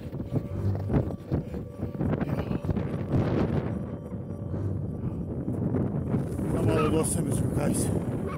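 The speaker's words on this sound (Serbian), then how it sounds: "Vetar od juče počeo da duva." Strong wind blows on Lake Baikal, buffeting the microphone with continuous low rumbling gusts while someone talks over it.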